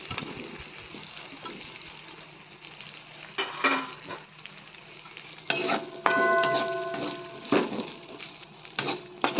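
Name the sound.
potatoes being sautéed and stirred in a pan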